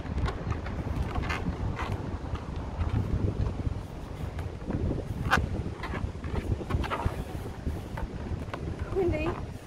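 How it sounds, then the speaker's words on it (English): Strong wind gusting in London, buffeting the microphone with low rumbling bursts and creaks, while people talk intermittently nearby. "Windy."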